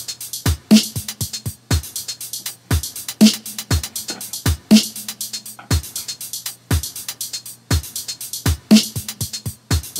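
Compressed dubstep drum beat playing back alone, punchy kicks and sharp snares repeating in a steady two-second pattern with tight hi-hat hits between, loud and dense throughout.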